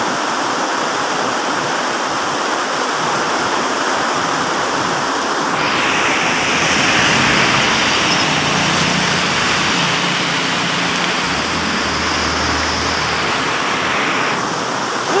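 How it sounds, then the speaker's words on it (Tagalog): Heavy rain pours steadily over rice paddies, a loud, dense hiss that runs unbroken from start to finish with no voices. "Ayan, umulan na. Ang lakas ng ulan."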